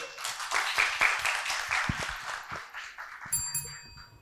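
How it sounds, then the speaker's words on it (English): Audience hands clapping in applause after a student's speech at a university public speaking contest, a dense, even patter of many claps filling the room, with a few bright metallic ding-like tones near the end. "Clap your hands if you can do it"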